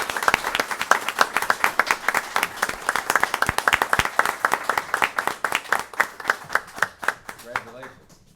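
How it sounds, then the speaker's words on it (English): School board meeting audience in Putnam County, Florida, claps for an honoree. The applause is close and distinct, with sharp individual claps throughout, tapering into sparser claps at the end. "Let's give him a round of applause."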